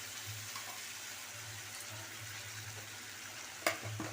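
Masala for a prawn curry with banana and potato being fried and stirred in a pan, a soft steady sizzle with a low hum beneath and a sharp scrape near the end.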